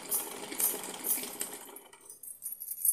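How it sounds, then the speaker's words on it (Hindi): Sewing machine stitching fabric for a small fancy dress for a Laddu Gopal idol, a fast, close rattling hum in short bursts that trails off near the end. "तो चलिए इसी तरह से हम इसको पूरे को सिलाई लगा लेते हैं सर्कल को"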